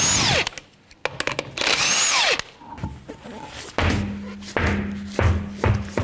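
An impact gun spins a 21mm socket to loosen lug nuts on the right front wheel of a 2006-2012 Toyota RAV4, with loud whirring bursts and clunks, then a lower steady hum with repeated short pulses.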